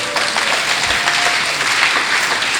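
Church congregation applauding steadily throughout, a dense, continuous wash of clapping from many hands filling the room, with no talk over it.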